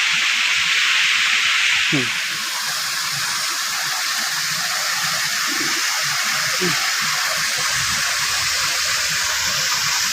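Water flows down a forested hillside near Rayachoti in a steady, continuous broadband rush that runs unbroken through the whole stretch, with faint voices briefly audible near the start.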